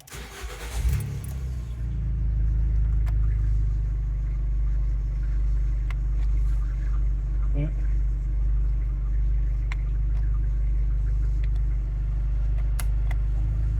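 An Abarth 500 engine cranks and catches about a second in, then settles into a loud, steady, low idle rumble that continues throughout, with people talking faintly nearby.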